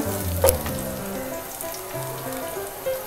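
Spice paste for chicken curry fries in a pan with a little water, a steady moderate sizzle with a brief clink near the start and soft bubbling throughout.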